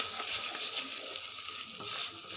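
Green banana peel paste, seasoned with salt, turmeric and a little sugar, is stirred in a hot pan, giving a steady close sizzle and frying hiss with soft scraping throughout.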